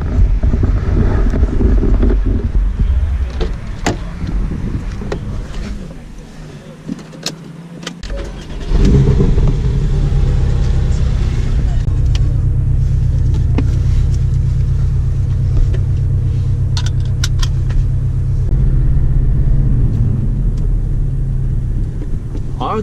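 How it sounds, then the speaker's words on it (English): A Porsche Boxster S drives hard around the Nürburgring, its engine a loud, continuous rumble with wind buffeting. The sound drops briefly partway through, then climbs back to full, sustained power. "I am here today with a Porsche Boxer S, so I think it's time to see how fast this little beast goes"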